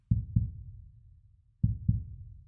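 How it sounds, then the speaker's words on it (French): Recorded heartbeat sounds for a relaxation session, two double-thump beats about one and a half seconds apart, each a deep lub-dub pair with a soft decaying tail, alone and fairly close. "au rythme de ces battements de cœur"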